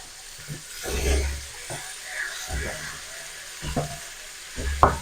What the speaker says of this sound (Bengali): বেগুনগুলোকেও ভালো করে ভেজে নেব